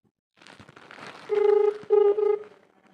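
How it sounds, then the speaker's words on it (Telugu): A phone call is dialed and then rings out. Faint soft tones come first, then a loud ringback tone repeats in two or three close bursts, with no one speaking. "సో ఇప్పుడైతే కాల్ చేస్తున్నా."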